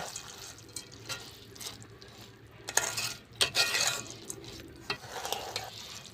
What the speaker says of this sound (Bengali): এবারে আমি ভালো করে মিশিয়ে নেব